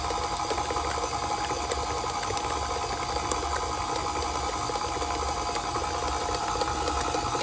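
An electric mixer runs on low speed, beating cheesecake batter in a steady, continuous whirring hiss with no pauses.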